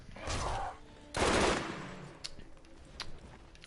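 Sniper rifle shots in Borderlands, a video game: two loud, close bursts of fire about a second apart, followed by fainter sharp clicks and small reports.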